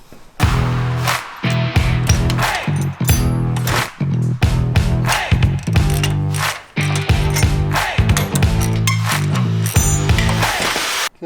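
A ratchet wrench with an 18mm socket loosens a sway bar bolt on a Jeep JL Wrangler, giving loud, close, rapid clicking in repeated bursts separated by short pauses, with no talking.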